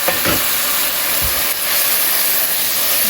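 Mutton broth poured slowly into a pan of cooked-down spice mix gives a steady close hiss and sizzle with a low bubbling splash, continuous throughout.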